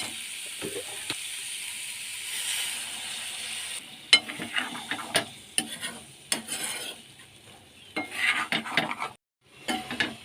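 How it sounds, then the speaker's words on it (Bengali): Malabar spinach stems being sautéed in a pan give a steady near sizzle with a hiss, broken by frequent sharp scrapes and clinks of a spatula stirring against the metal. "এখানে পুঁই মিশিলিটা আমার ভালো মতন কষানো হয়ে গেছে"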